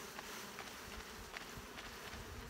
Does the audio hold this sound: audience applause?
no